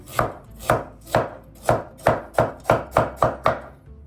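Ginger sliced on a cutting board with a knife: about ten sharp, evenly spaced chops, close and crisp, getting slightly quicker toward the end, with no voices.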